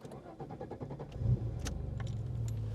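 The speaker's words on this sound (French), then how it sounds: "Démarrage, le fameux V6." An Alfa Romeo 155 with its V6 engine cranks and catches, settling into a steady, throbbing idle close by with no talk over it.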